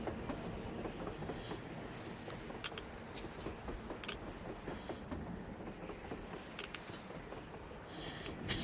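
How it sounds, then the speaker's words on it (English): A train passing in the video game Metro Exodus gives a steady, continuous rumble with rhythmic wheel clatter and faint metallic squeals, heard at moderate distance throughout. "A train! A damn train on the surface!"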